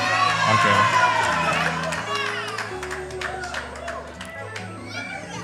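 Wedding congregation in a church raising loud cheers and joyful shouts, with children's voices in a dense, sustained crowd din that continues under music throughout.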